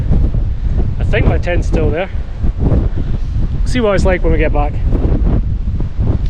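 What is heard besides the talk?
strong wind on mountain Beinn Ghlas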